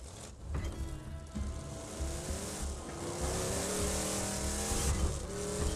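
A car in Borderlands 2, digistructed at a Catch-A-Ride station, driving with a steady engine drone and rising revs, tire noise and some skid-like squeal, loud and continuous throughout with no talk.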